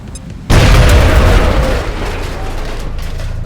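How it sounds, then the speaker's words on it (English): A grenade detonates in the video game XCOM Enemy Within, a sudden loud boom that cuts in sharply and then rolls into a long, rumbling decay. "pulled her grenade, and tossed it in between them."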